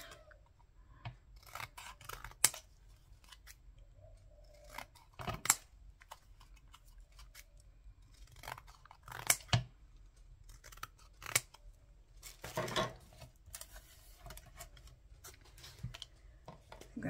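Scissors snip through paper for layered Christmas gift tags, many short crisp cuts in irregular clusters, close and fairly quiet, with no voices.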